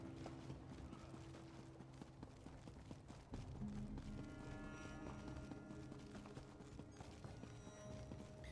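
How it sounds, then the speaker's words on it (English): A horse ridden in The Elder Scrolls Online clip-clops in a steady galloping rhythm, its hoofbeats close and continuous, with faint game ambience underneath. "It's going to take a long time to be riding my horse between all of them."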